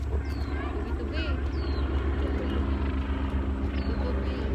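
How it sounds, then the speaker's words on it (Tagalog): A helicopter flies overhead at a Hong Kong wetland, its steady, loud rotor drone filling the scene without a break while people chat faintly underneath. "May dala yung helicopter."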